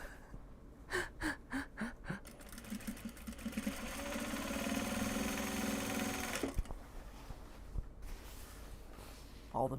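A sewing machine sews project bags from Japanese fabrics, its steady mid-pitched hum running for about four seconds in the middle, with soft breathy sounds and faint knocks before and after.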